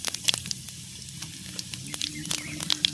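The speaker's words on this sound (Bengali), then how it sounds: "ফোড়নে জিরে পড়ে গেল।" Cumin seeds crackling in hot oil in a pan, a quick series of sharp, close pops and crackles over a light hiss, with a voice faintly audible beneath.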